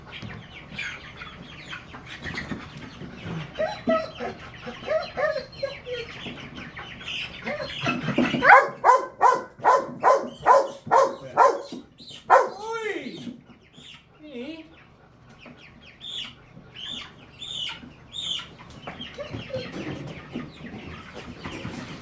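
Broiler chickens packed in a box on a homestead cluck and squawk, with a burst of rapid, rhythmic squawks midway and a dog and voices heard nearby.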